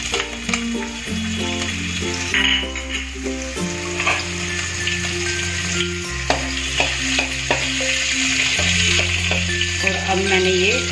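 Asafoetida and chopped green chillies dropped into hot frying oil for paneer and bottle-gourd kofta curry, giving a loud, continuous close sizzle and crackle with stirring clinks, under steady background music.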